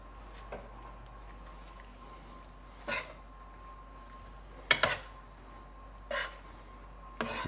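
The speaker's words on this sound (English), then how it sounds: "Give that a nice stir." Roasted cherry tomatoes and pasta stirred in a pan, heard as a handful of sparse, quiet clinks and scrapes of a utensil against the pan, spaced a second or two apart over a faint hum.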